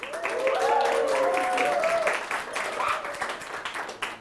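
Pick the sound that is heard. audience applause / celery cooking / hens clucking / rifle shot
audience applause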